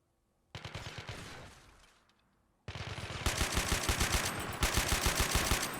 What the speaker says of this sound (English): this Peshnik guy is under fire from many directions